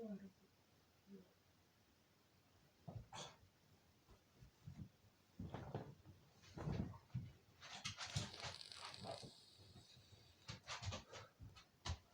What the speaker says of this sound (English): My dog wants something, but I don't know what she wants.